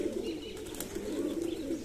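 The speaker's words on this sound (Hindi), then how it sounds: "ये गोल्डन कबूतर का बच्चा है" A golden pigeon chick coos in a soft, low, steady warble, close by and continuous, with faint background noise and no talk.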